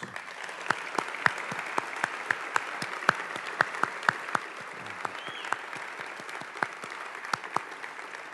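A university campaign celebration audience applauds Shirley, a steady round of crowd clapping with sharp individual claps standing out, sustained and fairly even with no talk.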